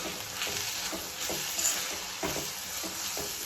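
A spoon stirs turmeric and garam masala into hot oil for a soybean masala, giving a steady sizzle with soft, rhythmic scraping strokes close by and no talk.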